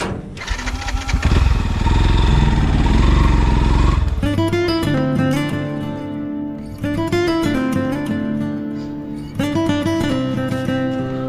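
A motorcycle engine revs loudly up close, then settles into a steady, throbbing idle with occasional throttle blips.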